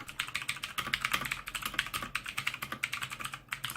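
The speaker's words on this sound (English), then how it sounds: "I'll let you hear a typing test now." Rapid typing on a Mechanical Eagle Z-88 mechanical keyboard with Altimu blue switches, a dense stream of sharp clicky keystrokes at close range with no talk.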